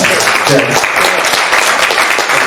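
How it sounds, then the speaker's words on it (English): Audience applause at a political convention for a mayoral candidate, loud, dense clapping from a crowd that fills the room steadily, with some voices mixed in underneath. "Round of applause."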